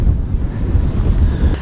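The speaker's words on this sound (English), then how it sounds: "This wind is way too gnarly." Strong wind gusts buffet a van during a winter storm, a loud, steady low roar with pulsing buffets lasting throughout, no voices.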